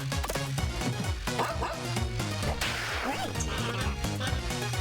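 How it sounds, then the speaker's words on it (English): A cheerful video game dog barks in short yips over busy, loud game music with a steady beat, the barking partly buried in the mix. "Cheerful barking noises."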